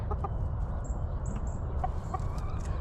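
A rooster in a backyard chicken yard by a new coop gives a few soft, separate clucks over a steady low background hum.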